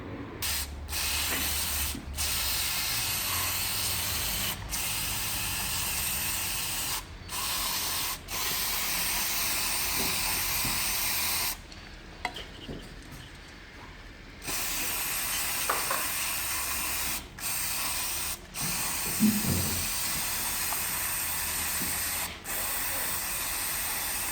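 Brake cleaner sprayed in long, loud hissing bursts onto the air flow sensor of a Volkswagen Passat CC, with brief pauses between blasts and a longer gap midway.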